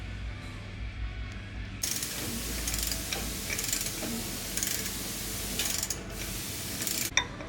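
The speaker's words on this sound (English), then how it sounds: "using the torque wrench just to see what it is to crack the yoke" A torque wrench ratchets steadily while turning the oiled differential yoke on a Ford F350's rebuilt differential housing. The metallic clicking starts after a quiet two seconds and continues at close range with no talking.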